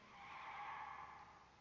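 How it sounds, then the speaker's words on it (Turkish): Skidding tires of a police car in the video game H1Z1, a faint, smeared squeal held for about a second and a half with no talking over it. "Lan araba geliyor. Aynen polis arabası."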